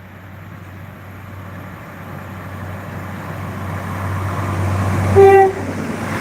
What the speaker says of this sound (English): hearing the distinct growl of a 3000 approaching